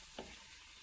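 Potatoes fry in a pan with a steady, faint sizzling hiss, broken briefly by a small stir or clink near the start.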